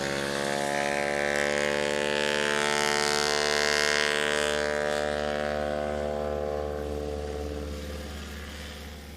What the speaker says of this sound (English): That is an absolute beast of an airplane taking off so short for how heavy it is.